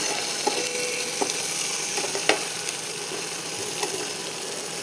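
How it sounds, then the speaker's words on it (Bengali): Onion fries in hot oil with a little salt for an egg curry, a dense, steady sizzle that holds close throughout, broken by a few faint clicks of a utensil. "তেলটা গরম, পেঁয়াজ দিয়েছি, সামান্য পরিমাণ নুন দেব।"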